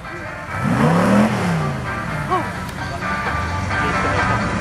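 An Ultima GTR race car drives past at a motorsport test day at North Weald, its engine note rising and sweeping by loudly before fading into a steady distant drone.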